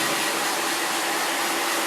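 A hair dryer blows continuously and loudly up close while blow-drying hair after a product is applied, a steady broadband rush with no pauses.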